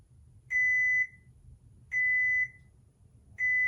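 A lightsaber hilt emits three identical high electronic beeps, each about half a second long, spaced evenly and clearly in a quiet room, signalling entry to its volume menu.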